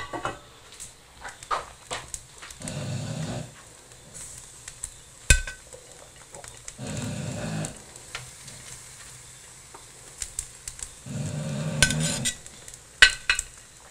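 Cracker fish pieces topped with feta sizzle over an outdoor fire, a steady frying hiss that swells in a few bursts, with occasional clinks of cutlery and pans nearby.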